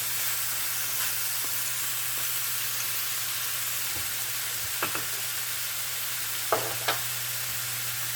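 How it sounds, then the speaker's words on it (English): Ground beef and onions fry in a pan over medium-high heat for goulash, a constant close sizzle with a low steady hum underneath and a few brief scrapes of stirring. "I'm going to start cooking my ground beef. And I'm going to add in my onions as well."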